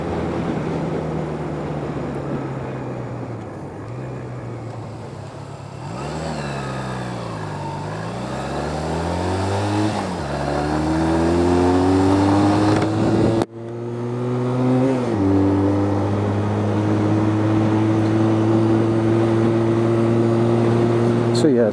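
A small Honda Nighthawk motorcycle pulls away and rides along a road, its engine note rising and falling through gear changes with steady wind rush, loud and close, then settling into a sustained higher-pitched drone.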